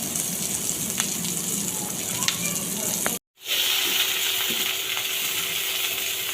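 Nigella seeds, chopped onion and garlic sizzle in hot oil in a home kitchen: a steady, close, crackling hiss that cuts out briefly midway, then resumes just as strongly.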